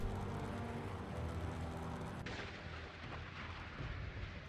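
Missile launches in a modern naval combat video game, a loud sustained roaring rush of rocket exhaust that fills the whole clip and shifts partway through into a thinner, hissing wash.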